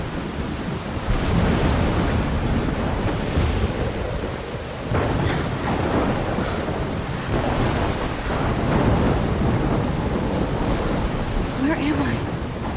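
A thunderstorm in the game Life is Strange: heavy rain hammers down in a constant roar while deep thunder rumbles and cracks in several loud bursts, with faint voice traces underneath.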